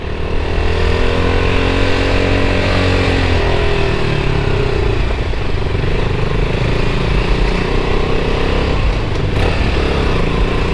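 A KTM RC 200 motorcycle engine runs steadily up close, a loud, buzzing single-cylinder drone with slight rises and dips in revs throughout, no voices over it.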